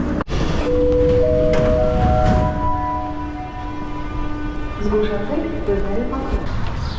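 Yerevan metro train ride in Armenia: a steady loud rumble of the moving carriage with shrill wheel and brake squeals rising and holding across the ride, and voices murmuring in the car.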